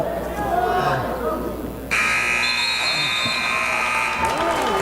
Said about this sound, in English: held on to the ball until the buzzer went off